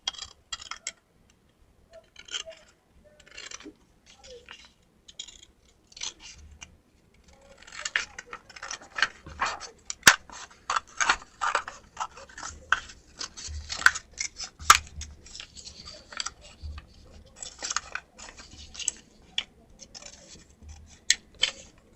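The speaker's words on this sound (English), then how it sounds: "I get a scissors and I cut all of them out." Scissors snip repeatedly through paper, cutting out circles, a steady series of close, crisp cuts that quicken and grow louder partway through.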